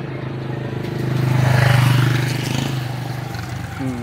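A motorcycle passes near a bridge over a river, its engine hum swelling to a peak and then easing away, steady and moderately close, with a faint voice near the end.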